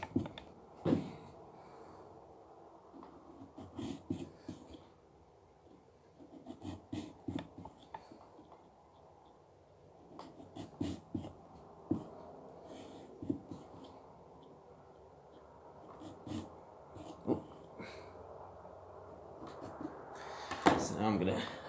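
A knife cuts and scrapes through a pumpkin in short, close, irregular bursts, with pauses between strokes and some faint voice sounds in the background.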